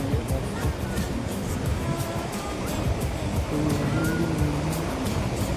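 Surf washing in steadily on Nagaon beach in Alibag, a continuous broad rush of waves close by with a faint hum in the background and no clear talk.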